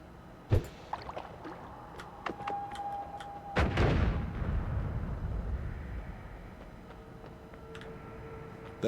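A bomb going off in the Noita video game: a sudden, loud, crunching blast that trails into a rumbling, crackling decay, after a few smaller ticks and pops.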